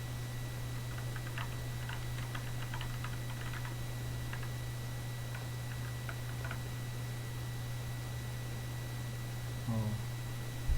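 Password keys tapped on a computer keyboard while installing Windows Server 2016, quiet scattered clicks in short bursts over a steady electrical hum, with a brief louder knock near the end.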